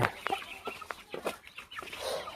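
Guinea fowl hen with her small chicks, giving a run of short clucking calls and chirps at close range with no talk over them.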